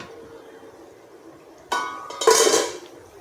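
A lid lifts off a cooking pot of ripe mango curry, a metallic scrape followed by a clattering clink of metal against the pot, loud and close, with no one talking.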